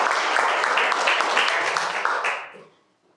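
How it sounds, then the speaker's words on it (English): Audience clapping at a personal branding and marketing talk: a dense, steady patter of many hands that thins and fades out after a couple of seconds, followed by near silence. "Just clap for Samuel."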